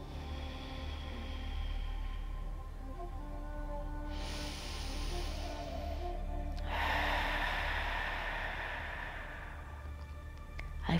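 Slow, deep yoga breathing through a slightly contracted throat, producing long hissing inhales and exhales with a raspy, ocean-like texture, close and alone with no talking.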